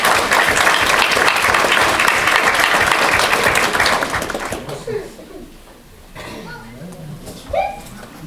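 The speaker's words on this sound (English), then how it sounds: "Give them a round of applause" An audience at a school board meeting applauds student dancers, with dense clapping that fades after about five seconds. Scattered voices and light noises follow.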